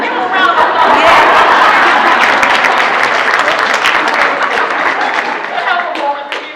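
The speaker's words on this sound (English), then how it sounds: "Give him a round of applause." An audience at a chamber of commerce summit in Greenville gives a round of applause that is loud and dense, with scattered chuckles and chatter mixed in before the clapping tapers slightly.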